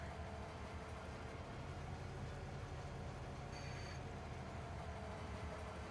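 A short freight train in the video game Farming Simulator 25 rumbles along steadily, a constant low, even rolling noise with faint wheel sounds, heard alone with no talking.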